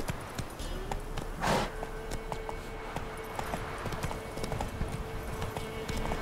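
Horse hooves clip-clop at a steady walking pace in The Witcher 3, close and clear over a continuous game ambience, with a brief swell of noise partway through.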